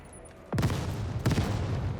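Two loud bursts of gunfire from the Lost in Random video game on PC, a heavy volley at about half a second followed by a second blast a moment later, each trailing off into a rumbling decay.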